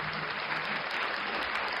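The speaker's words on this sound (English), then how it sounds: "Once again, a round of applause" Audience applause for a podcast guest, a steady dense wash of clapping throughout the short stretch.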